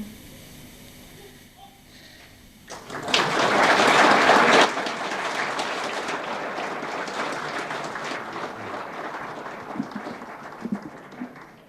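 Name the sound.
applause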